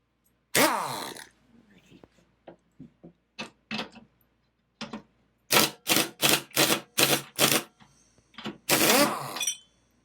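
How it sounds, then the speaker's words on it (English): An impact wrench works a galvanized pulley bolt on a John Deere D110 riding mower deck, firing a string of short, loud hammering bursts in quick succession, with someone talking in between. "I am going to use an impact on this because it's galvanized and not rusted up"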